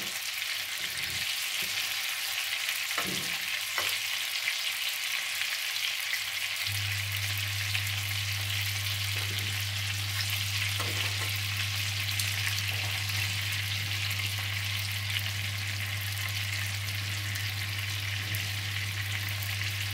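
Meat cutlets frying in a pan, a steady loud sizzle and crackle running throughout with a few soft clinks of utensils, no talking.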